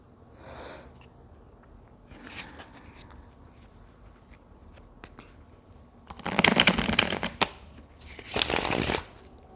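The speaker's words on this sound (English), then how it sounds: "while I'm selecting cards" Playing cards are shuffled and picked through, with soft scattered rustles first and then two loud bursts of riffling close by.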